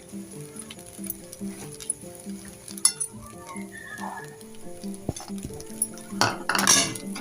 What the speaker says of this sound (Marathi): चांगलं भाजून घेऊया परत, सतत फिरवत राहायचं त्याला, चांगलं भाजायचं।